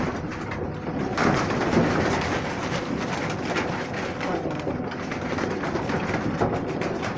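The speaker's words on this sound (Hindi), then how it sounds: "काला जीरा कबूतर है ये" Kala Jeera breed pigeons coo together in a loft, a dense, loud, continuous mass of throaty overlapping coos and rustling heard up close.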